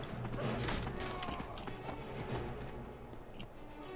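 Horse hooves clip-clop in a steady rhythm while riding in the video game Skyrim, fairly close, over a busy game soundscape with some background noise.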